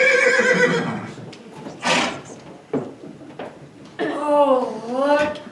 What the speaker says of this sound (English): The horses seem upset not to see their master.